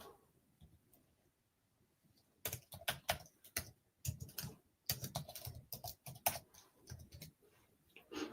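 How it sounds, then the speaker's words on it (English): Fingers typing a name on a computer keyboard, a quiet pause followed by rapid bursts of soft, clicky keystrokes in uneven runs, close and fairly faint. "I'm trying to type up his name in here."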